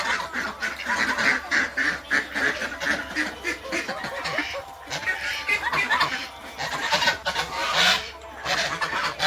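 Ducks quack repeatedly and loudly in a farmyard flock of laying ducks, with geese mixed in, a busy overlapping chorus running throughout.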